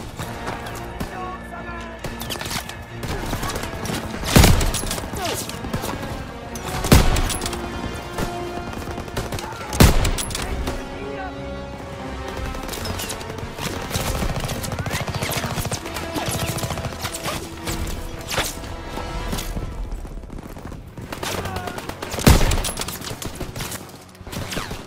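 Machine gun fire in the WWII shooter Call of Duty, with an MG nest in a hayloft: sustained crackling bursts and repeated sharp gunshot blasts spread across the scene amid battle noise, with voices speaking under the fire.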